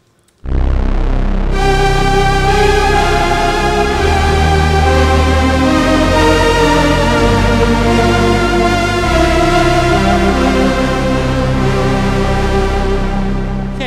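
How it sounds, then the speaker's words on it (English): A rich, sustained Omnisphere 1.5 synth pad built from Harmonia oscillators, each modulated by its own LFO, swells in loud and holds a dense, shimmering, slowly shifting tone for over ten seconds, with no voices. "we can now modulate each of the Harmonia oscillators independently, and we can produce really rich sounds with independent LFOs on each of the oscillators"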